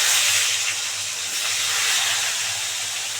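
Tomato dropped into hot oil tempered with asafoetida and bay leaf for a fish kofta dish, giving a loud, continuous hissing sizzle that holds steady throughout.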